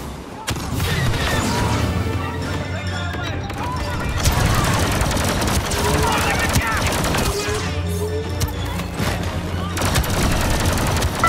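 Dense, continuous blaster gunfire and explosions fill a battle in the Star Wars Battlefront II video game, with overlapping shots near and far and voices talking amid the chaos.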